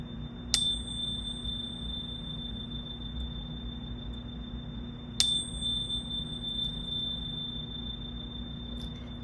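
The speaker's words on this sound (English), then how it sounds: "we're just going to start out with these beautiful chimes" Two bright chime strikes ring out several seconds apart at a book celebration gathering, each with a long shimmering sustain over a low steady hum.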